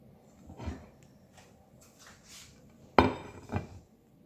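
Baked lasagna roll ups are lifted from a baking dish, giving a few faint clinks and one sharper clatter of utensil against the dish amid quiet pauses.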